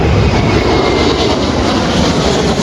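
A jet airplane near the runway at Sangster International Airport in Montego Bay, Jamaica, roars as a loud, steady engine rumble close by, with no talking.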